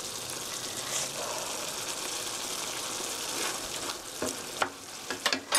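Beef sauce with melting cheese is stirred in a hot pan, giving a steady, close frying hiss with soft scraping, then a few louder clinks of the spoon toward the end.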